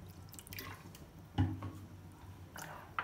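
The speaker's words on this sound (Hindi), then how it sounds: "थोड़ा सा और पानी शामिल कर देंगे इसमें।" Water being added to a homemade custard mix, heard as a few soft drips and small splashes, quiet and close with no talking.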